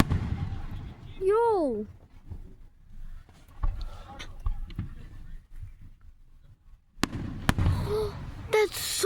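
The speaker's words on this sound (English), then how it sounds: "I love fireworks." Fireworks exploding in a night sky, with a loud close burst near the start, a whistling rocket rising, and a cluster of sharp cracks and bangs near the end, while people talk excitedly throughout.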